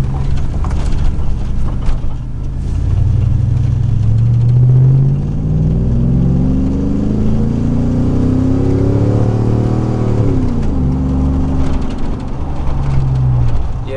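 A 2000 Chevrolet Silverado 4.8 truck with aftermarket dual-in dual-out exhaust accelerates through several gears, a loud, deep exhaust drone rising and dropping at each shift, heard from inside the cab.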